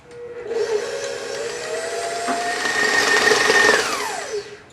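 An electric mixer works herb and cheese gluten-free bagel dough, with a steady whirring motor hum that rises in pitch and strain partway through and then winds down at the end, with no voices.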